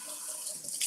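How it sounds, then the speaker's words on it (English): Tap water runs steadily over organic cilantro in a kitchen sink, a soft continuous rushing and splashing heard alone for under a second. "Let me just do like this much, and I'll rinse it and chop."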